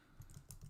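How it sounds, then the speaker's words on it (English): Typing on a computer keyboard produces a quick run of about five soft key clicks in an uneven rhythm, close and quiet, with no voice over them. "What am I typing?"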